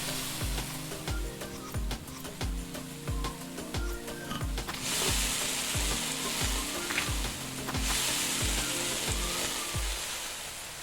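Onions, chilies, ginger and garlic paste frying in a pan in the cooking game Venba, a steady loud sizzle over a regular thumping kitchen rhythm, with two hissing surges as more goes in.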